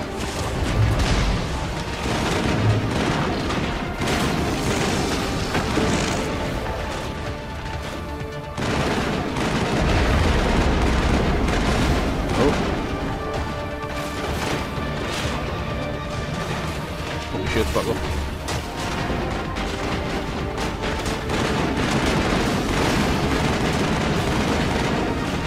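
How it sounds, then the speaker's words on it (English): Assault rifle gunfire in Mass Effect, sustained bursts of rapid shots mixed with booms and crashes in a loud, busy firefight that runs throughout. "Assault rifle."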